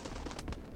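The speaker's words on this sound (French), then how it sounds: "Oh, le bruit de pigeon" A pigeon in the video game Hitman gives a brief, low, muffled coo, heard close and heavily compressed in a short burst.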